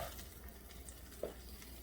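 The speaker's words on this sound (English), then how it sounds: "It's cooking up nicely." Vegan JUST Egg frying in a pan gives a soft, steady sizzle close by, with a brief clink or stir partway through and no talking.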